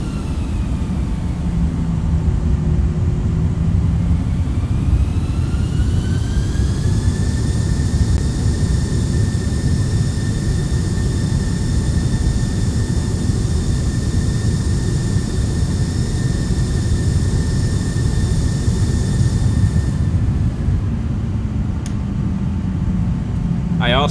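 Simulated Airbus A321neo engines in X-Plane 11 hold a loud, steady jet roar with thrust reversers deployed, the whine climbing in pitch, holding high, then falling away near the end.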